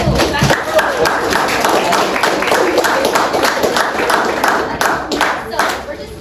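Audience at a science fair workshop clapping together, a dense steady patter of many hands lasting several seconds, close and fairly loud.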